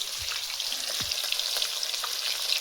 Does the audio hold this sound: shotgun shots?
no